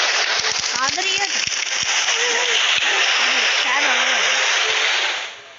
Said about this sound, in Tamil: மழை சவுண்ட் ரொம்ப கேட்குது. எங்கள் வீட்டு பக்கத்தில் வர மழை.